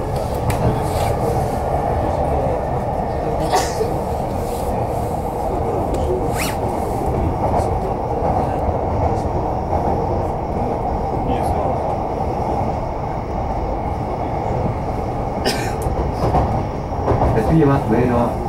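JR East E233-3000 series commuter train running on rails between Urawa and Shinagawa, a steady loud rumble of wheels and motors with occasional clicks and rattles throughout, without talk.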